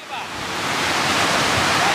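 A waterfall on a river in Sierra Leone roars as a loud, dense, steady rush of falling water, close by, swelling slightly after the first moments and holding constant.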